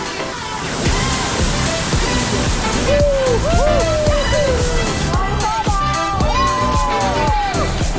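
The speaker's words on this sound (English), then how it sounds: "The waterfall is much bigger than we expected." A large waterfall near Cairns in Tropical North Queensland roars loudly and continuously, a broad rushing wash close by, while several people talk over it.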